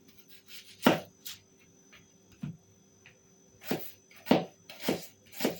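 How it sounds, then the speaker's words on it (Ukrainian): A knife chops an onion on a board in sharp, irregular strokes: one near hit, a pause, then a quick cluster of several chops. "Тепер наріжу цибулину."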